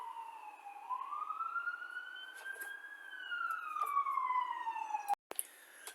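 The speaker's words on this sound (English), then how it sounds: "3 ambulances just went speeding by." A siren sweeps up and down in a long wail, then a second siren layer joins above it, as ambulances race past an indoor room on a road outside; the sirens are clear and steady, swelling louder toward the end before a brief cutoff.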